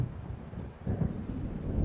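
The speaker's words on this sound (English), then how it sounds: "It seems there's a storm 哦 coming." A thunderstorm rolls in over a lake in the video game Alan Wake. Deep, rumbling low thunder and wind roar swell after a brief dip, steady and heavy throughout.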